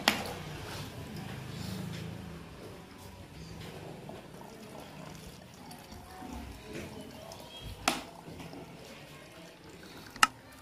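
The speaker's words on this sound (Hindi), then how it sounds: "फिर से हम बकेट में से पानी है तो बोतल में भरकर" Water from a bucket is poured gently into a bottle during a liquid-pressure science experiment, making a soft continuous trickle with two sharp knocks near the end.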